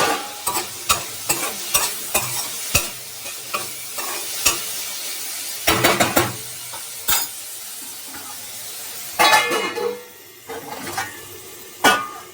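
Spoon scraping and stirring eggplant and egg curry ingredients in a cooking pot, a run of sharp, irregular clinks and scrapes, close and fairly loud, over a faint sizzle with no talking.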